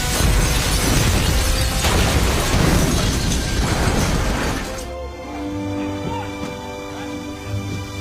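A violent explosion inside a lab in a film: a loud roaring blast with shattering debris for about five seconds, then it cuts to a quieter, tonal score with soft impacts.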